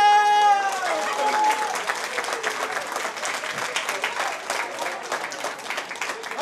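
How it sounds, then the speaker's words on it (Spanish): Applause from an audience at a live presentation, steady clapping of many hands filling the clip, with a brief sustained tone near the start. "¡Aplausos para ellos!"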